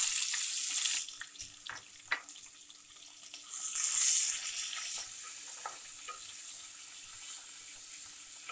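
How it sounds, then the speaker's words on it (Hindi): Onion and green chili dropped into hot ghee, a loud burst of sizzling that settles into a softer crackle with a few stirring clinks, then swells again briefly. "अब हम इसके अंदर अपनी प्याज और ये मिर्ची डालेंगे"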